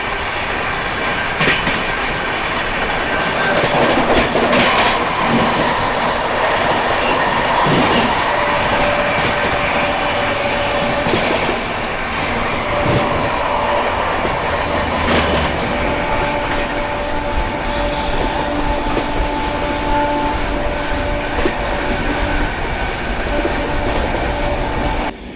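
The Maharashtra Sampark Kranti Express running fast, a steady loud roar of wheels on rails with rhythmic clickety-clack, occasional squealing and sustained tonal whines, heard from on board the whole time.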